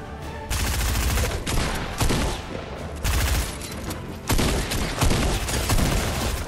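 Rapid shotgun blasts from the video game Fortnite come in dense, loud clusters, with heavy booming shots repeating in several bursts across the clip and no talk over them.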